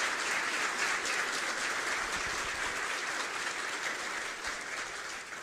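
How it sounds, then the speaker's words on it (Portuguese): Steady applause from an audience at a talk, sustained and even throughout with no voices over it, tapering only slightly toward the end. "Vamos aplaudir aí, gente, pela importante mensagem dele."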